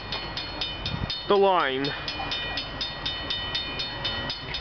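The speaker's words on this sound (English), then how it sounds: "we got a Canadian Pacific train coming down" A Canadian Pacific freight train passes the Bronte Street railway crossing in Milton, Ontario, with loud rhythmic wheel clatter, a warbling horn blast early on and the crossing bell ringing steadily throughout, while someone speaks briefly over it.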